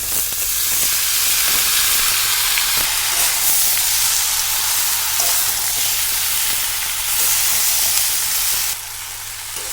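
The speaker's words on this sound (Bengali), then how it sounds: "এবারে আমি ভেজে রাখা সব সবজিগুলো এই মশলার সাথে ভালোভাবে কষিয়ে নেব" Pre-fried winter vegetables are sautéed with ginger paste and spices for khichdi, a loud, continuous, close sizzle with occasional stirring scrapes throughout.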